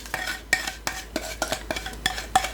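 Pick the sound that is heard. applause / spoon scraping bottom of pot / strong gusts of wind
spoon scraping bottom of pot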